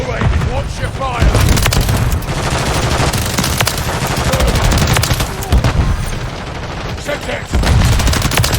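Call of Duty MW3 gunfire in War Mode, loud sustained automatic bursts and booms crackling almost continuously, briefly dipping before another heavy volley, with shouted voices mixed into the combat.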